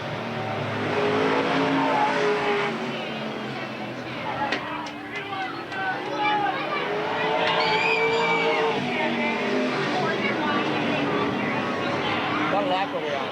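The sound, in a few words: race cars racing at Eugene Speedway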